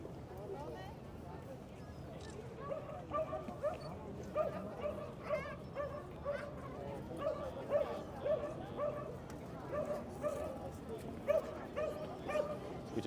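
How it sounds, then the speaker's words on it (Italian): A dog barks repeatedly in the distance in St Mark's Square during Carnival, sharp yips repeating steadily under a crowd murmur while a person talks close by. "Qui c'è sempre sto cane che abbaia dalle 3:30 che eravamo qui."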